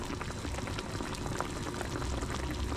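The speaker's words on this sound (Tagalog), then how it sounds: "Kumulo na siya." A pot of soup with chili at a rolling boil, a steady dense bubbling and gurgling that fills the whole stretch at close range without pause, with no voices over it.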